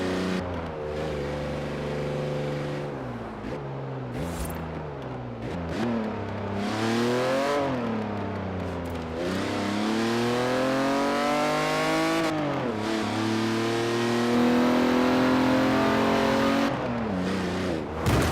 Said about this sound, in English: So when you hit the regulator, this car seems to over-rev past the rev limiter.